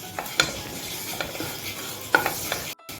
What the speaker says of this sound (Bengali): সেমাইটা আমি ঘিয়ের মধ্যে একটু গোল্ডেন করে ভেজে নেব।